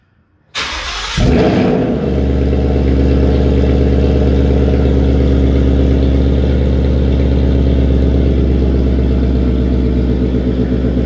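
A 2019 Mustang GT engine cranks and fires, then settles into a loud, steady exhaust rumble in sport mode, active exhaust valves opening and closing on their own, droning on evenly without letting up.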